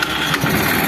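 A motorcycle engine fitted with its original carburetor catches and runs, giving a brief, close, steady mid-pitched engine rumble with no talk.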